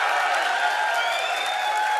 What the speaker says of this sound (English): can we now get a huge round of applause for Matt Booty?